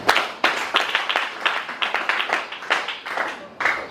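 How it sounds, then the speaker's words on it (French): A church congregation claps together during a Sunday service in quick, rhythmic bursts of applause, close and lively, with no voices standing out. "Nous acclamons très fort."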